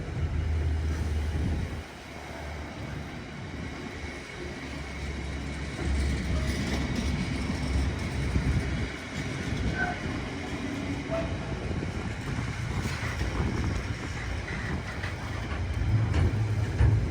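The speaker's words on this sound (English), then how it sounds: "Freight train has slowed down a bit because of an amber signal" A freight train hauled by British Rail-liveried locomotive 66789 eases down at an amber signal at Harringay Green Lanes, a steady low rumble and rolling clatter close by, with faint brief voices underneath.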